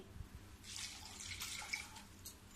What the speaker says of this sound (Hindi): इसमें मैं 1 गिलास